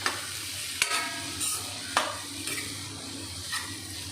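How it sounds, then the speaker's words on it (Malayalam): Jackfruit seed fry being stirred in a pan, with a soft continuous sizzle under it and a few sharp scrapes and taps of the spatula against the pan at irregular intervals, close and fairly quiet. "എന്നിട്ട് എല്ലാം കൂടെ ഒന്ന് മിക്സ് ചെയ്ത് കൊടുക്കാം."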